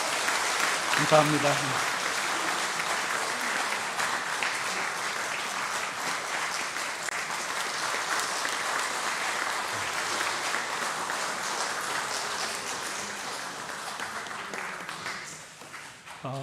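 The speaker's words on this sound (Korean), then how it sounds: "다시 한번 박수하겠습니다" Applause from a church congregation during a Sunday service fills the space continuously, a broad even patter that holds steady and fades near the end, with a voice briefly speaking.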